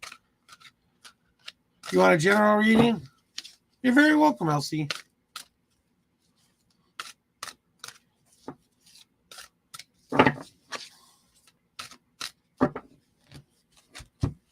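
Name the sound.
tarot cards being shuffled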